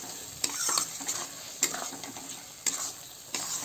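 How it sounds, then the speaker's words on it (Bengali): Spiced fried potatoes stirred in a pan for wallago fish curry, with repeated scraping strokes and light metal taps over a faint continuous sizzle, close and fairly quiet. "আলু ভাজা দিয়েছি, আর একটু কষাই নেবো আলু"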